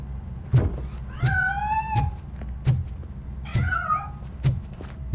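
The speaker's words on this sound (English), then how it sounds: "That cat must be hiding inside." A cat in the video game RoboCop: Rogue City meows several times in quick succession, the calls rising and falling over a steady low background rumble, close and clear with no talking.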